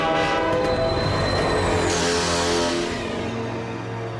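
A cartoon train horn blares as the Slug Terranean Express pulls in, a long sustained tonal blast with a pitch glide near the start, over steady rumbling rail noise and clatter that fade slightly toward the end.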